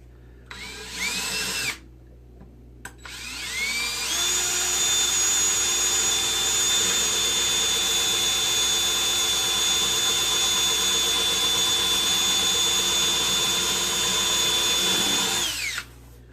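A power drill bores screw holes in the build of a compact homemade table saw: a brief whir, a pause, then a long loud steady whine with a high squealing tone that winds down at the end.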